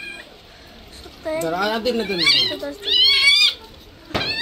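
A cat lets out two loud, drawn-out meows, wavering and wailing, followed by a brief clatter at the end.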